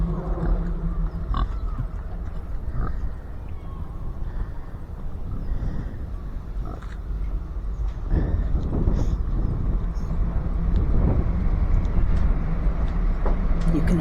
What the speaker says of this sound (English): You can hear the dulcet sound of the trains rambling past.